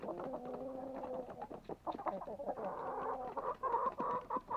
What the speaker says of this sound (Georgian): აჰა ეს პატარა დედალი ყოფილა ხედავ